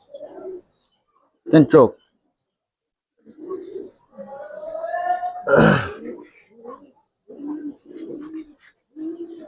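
Silver Giribaz pigeons coo in low, throaty bursts close by, repeated through the stretch, with someone talking over and between the calls.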